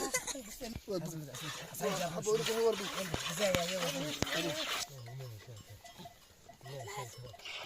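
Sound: goats, hair goats and crossbreeds

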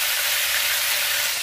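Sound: beef frying and sizzling as it is added to the pan

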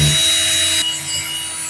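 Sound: drill running with a magnet attached to its chuck

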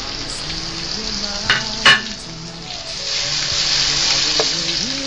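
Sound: onions and tomatoes sautéing in a pan

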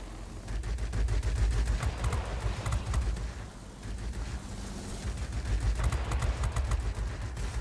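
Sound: F4U-1 Corsair cannon fire, video game World of Warplanes

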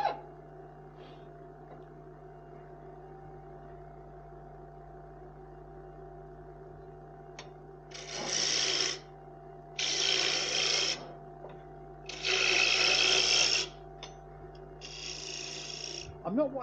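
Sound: bowl gouge turning a thin-stemmed wooden goblet on a lathe

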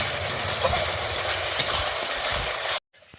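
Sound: stirring spice paste frying in oil

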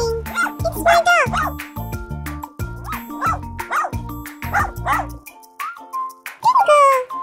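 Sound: dog barking in a cartoon

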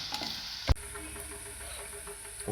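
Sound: ginger and garlic being stirred and sautéed in a pan

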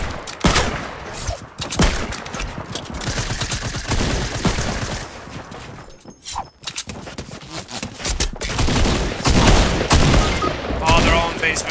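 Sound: minigun gunfire in a video game

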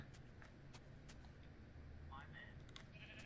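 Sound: sheep bleating in a video game

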